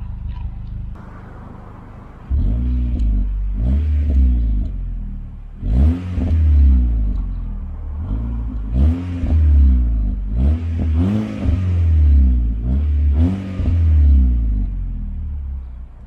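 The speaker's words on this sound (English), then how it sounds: "I've started the car up and let me give it a few revs" Mk5 Golf GTI engine idling in a detailed engine bay, then several sharp rev blips rising and falling in quick succession, loud and close with no talking.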